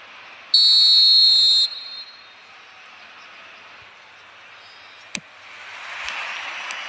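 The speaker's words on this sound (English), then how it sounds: "There's the whistle." In an eFootball mobile match, a loud, shrill referee whistle blasts once for about a second, over low stadium crowd ambience that swells slightly near the end.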